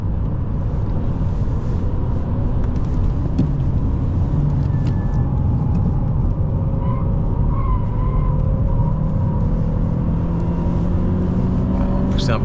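An Alfa Romeo 159 1.9 JTS pulls hard in third gear, its engine droning steadily and rising in pitch as it accelerates, heard from inside the cabin with constant road noise throughout.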